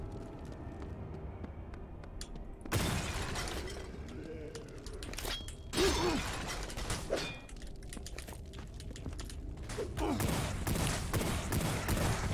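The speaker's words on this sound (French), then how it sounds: "On dirait qu'il fait aussi fusil à pompe" Gunfire from the starting pistol in Wrath: Aeon of Ruin, a retro first-person shooter. Several sharp, loud shotgun-like blasts go off at irregular intervals over quieter ambient game sound.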